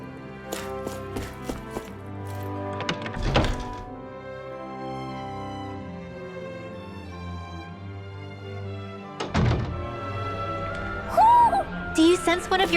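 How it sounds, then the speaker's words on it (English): Hammers bang away in the Tales of Arise video game, with a few heavy, widely spaced strikes cutting through tonal music while voices talk over the scene. "I always love the sound of hammers banging away."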